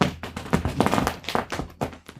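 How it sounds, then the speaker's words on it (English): A cat zooms around behind a chair, giving a quick run of close, soft taps and thumps in an uneven scrambling rhythm with no talking. "that's actually the sound of a cat zooming around the back of the chair"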